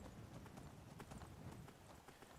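Horse hooves clip-clop steadily and evenly as a rider travels on horseback in the Skyrim video game, a continuous faint trot with no talking.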